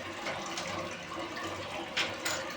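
A concealed WC toilet flushes, a steady rush of running water with brief louder surges near the end, close and without talk.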